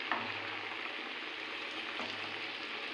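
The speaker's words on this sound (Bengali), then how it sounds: "একদিকটা ভাজা হয়ে গেছে, এবার অন্য দিকটা আস্তে আস্তে উল্টে দেব।" Bread pakora sandwiches fry in a wok of hot oil, giving a soft, even, fairly quiet sizzle that holds steady throughout with no talking.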